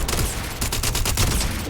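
A ballistic gun in Starfield fires a rapid burst of shots, loud and close, several sharp cracks bunched together in quick succession.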